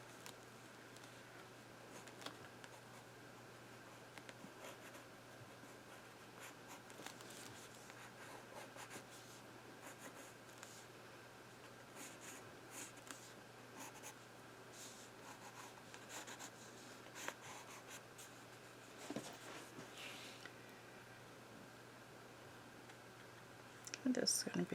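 A pen drawing on paper in an art journal, a quiet continuous scratching and rubbing of strokes with small ticks throughout, faint and close, with a steady background hum.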